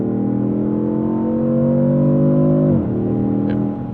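A 2026 Dodge Charger Six Pack accelerates on a highway, its engine droning loud and steady as the pitch rises, then drops sharply at a gear change before settling and easing off, heard from inside without talk.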